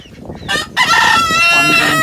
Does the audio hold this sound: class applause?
no